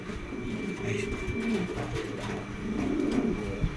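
A pair of pigeons, a white Sirazi and an Adana, coo in low, rolling murmurs close by, continuous and overlapping, with a faint steady whine in the background.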